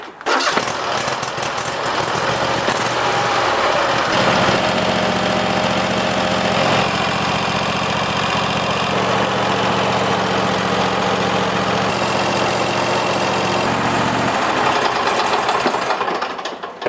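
Lawn tractor engine cranked by a newly fitted starter, catching and settling into a loud, steady, close-up idle that runs throughout with a deeper pulsing drone in the middle stretch.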